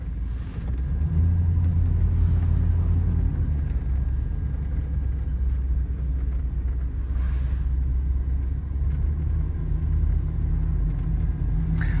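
A 1990 Chevrolet Suburban 2500 4x4 driving along, its engine giving a steady low rumble with road noise from inside the cab, continuous and fairly loud throughout, no talking.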